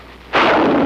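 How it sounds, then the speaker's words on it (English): A Korean War–era bazooka fires with a sudden loud blast that sets off a sustained roaring rush continuing to the end. "The bazooka."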